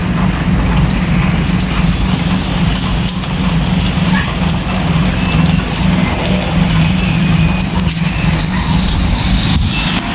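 Heavy rain pouring steadily, a dense loud hiss of drops on surfaces filling the whole stretch, with a low rumble underneath and no talk.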